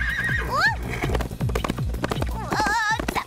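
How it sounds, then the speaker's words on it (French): A cartoon horse gives a loud, high whinny, then its hooves clip-clop in a brisk rhythm before a second wavering neigh, all close and bright. "Zephyr, le cheval merveilleux."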